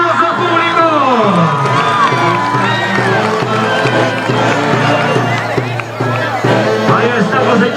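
Festival crowd during the Huaconada dance, a noisy mass of cheering, whoops and shouting voices, with children calling out among the babble and a steady loud roar throughout.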